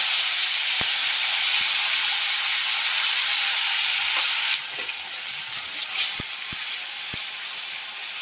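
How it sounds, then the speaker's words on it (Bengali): Chopped tomatoes hit a hot pan and sizzle loudly in a steady hiss, settling lower partway through, with a few light taps of a spoon against the pan. "এবারে দেব টমেটো কুচি করে রাখা।"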